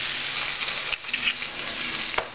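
An egg cooking in a pan with spinach, a steady bright sizzle and crackle of hot fat with a faint stir or scrape near the end.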